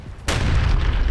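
A sudden heavy blast from an Israeli strike on Hamas fighters moving along a road, a sharp loud onset that swells into a deep rumbling roar sustained to the end.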